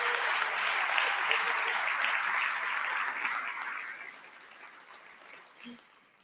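Applause from an audience at an advertising awards event, a dense roar of clapping that holds strong for several seconds and then fades away, with a few stray claps and a faint voice near the end.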